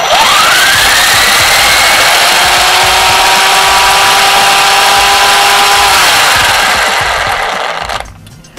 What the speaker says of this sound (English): just listen to the sound that comes from the gears